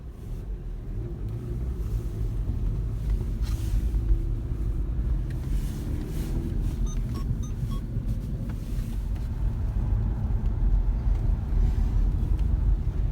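A Renault Megane engine runs and revs steadily for the whole stretch, a loud continuous low rumble with some wind buffeting on the microphone and no voices.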